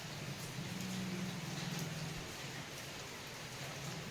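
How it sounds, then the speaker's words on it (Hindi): Steady rain falls outside a house, a constant even hiss of drops with faint low rumbles underneath, moderately quiet and continuous throughout. "ये बाहर देखिए बारिश का मौसम है"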